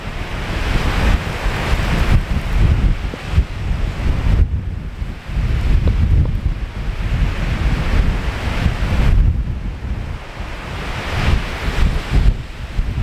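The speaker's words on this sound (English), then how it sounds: "Quite windy up here." Strong wind from Storm Babet buffets the microphone on a hilltop above Whiting Bay, Isle of Arran, in a continuous loud roar, with surf rumbling beneath it and no talking.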